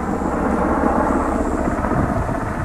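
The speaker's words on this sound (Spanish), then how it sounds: "Llegan helicópteros de apoyo." Support helicopters arriving at a military site after an explosive device incident in Marjah, a steady loud rotor thrum and whine filling the scene with no voices.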